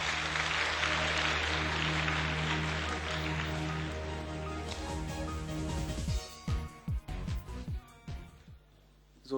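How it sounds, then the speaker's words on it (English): Applause from an audience in a youth parliament session hall, a dense continuous clapping that fades and thins into scattered separate claps before dying away. "Merci de les applaudir."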